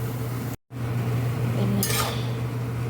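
A lid clinks onto a cooking pot of a Chinese dish over a steady stove hum, with a brief metallic clatter and a soft scrape, close by and without talk.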